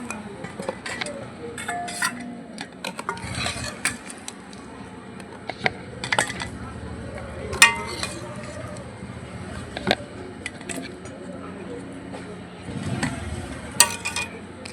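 A pot of desi chicken curry cooked oil-spicy with chui jhal is lifted off the stove, with close, irregular clinks, scrapes and knocks of metal utensils against the pot scattered across the stretch.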